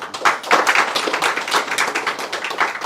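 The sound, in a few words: applause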